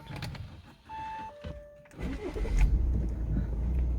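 An Audi A6 C7 is switched back on, with electronic chimes and whirring from the system powering up, followed by the engine starting and settling into a low steady idle close by.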